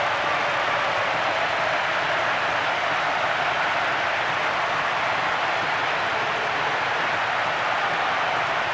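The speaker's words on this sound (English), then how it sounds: "The crowd giving both manager and players some serious stick." A stadium crowd in the PES 2010 football video game keeps up a dense, steady roar of jeering and noise, fairly loud and unbroken throughout, with no clear single voices.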